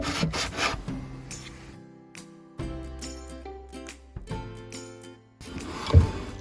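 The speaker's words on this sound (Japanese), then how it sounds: "ちょっとこの角の部分がささくれてしまってますので、少し削っておきます。" Rough, frayed corner of a cut wooden panel filed down during a camper van heater installation, a series of short rasping strokes with pauses between them, close and fairly loud with no talk.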